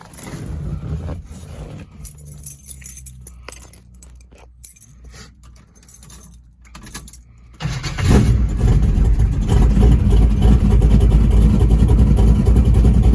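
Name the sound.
car engine with Edelbrock 650 carburetor starting and revving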